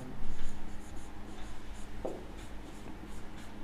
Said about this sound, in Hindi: इस कथन को हम लिखते हैं